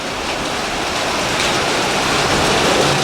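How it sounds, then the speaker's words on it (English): Steady, dense rain pouring down, a continuous broadband hiss of water striking surfaces, loud and close with no voices. "storms moved in."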